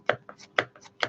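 Scissors snipping through fabric while sewing a small handbag, three crisp close cuts in an even rhythm, each with a softer closing click between, alone without talk.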